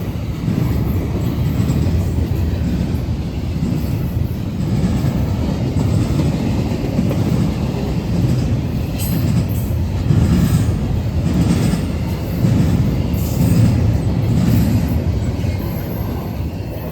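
A Norfolk Southern freight train rumbles past continuously and loud, with heavy low roar and rhythmic clacking of wheels over rail joints, no voices.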